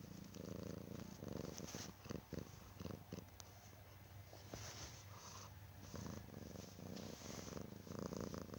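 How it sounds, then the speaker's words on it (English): A cat purrs with the tablet microphone held right up to it, producing a steady, close, rhythmic rumble that swells and eases with each breath, loud and continuous throughout with no talking. "My cat's purring right now."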